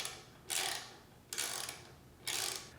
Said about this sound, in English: we're gonna loosen this bolt.